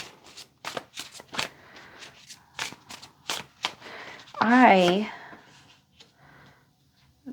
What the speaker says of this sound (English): I'm going to just put these cards down a certain way right now here